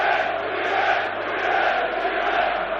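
Capacity crowd of about 40,000 West Ham and Nottingham Forest fans in carnival mood before the 1991 FA Cup semi-final at Villa Park, a steady loud roar of massed voices with no single sound standing out.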